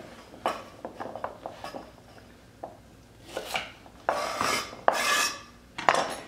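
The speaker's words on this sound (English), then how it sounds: "For the carrots, let's just trim them." Carrots being trimmed with a knife on a board while making kimchi: a run of sharp chopping cuts, several soft taps early on, then louder, longer scraping strokes near the end, close up with no talk.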